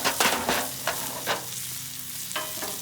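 NY strip steaks sizzle steadily on a Blackstone griddle beside frying potatoes, a close, continuous crackling hiss broken by a few sharp scrapes and taps of a spatula, with no voices.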